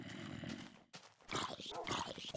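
Dog noises from the blocky game Minecraft Beta 1.7.3, short grunting barks and whimpers in a steady string, with a brief gap before louder game activity returns.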